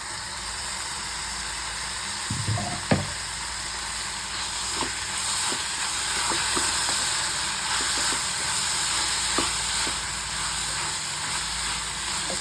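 Tomato and onion fry for a ridge gourd palya with a constant, hissing sizzle throughout, broken early by a short clatter of a utensil against the pan and later by a few light ticks.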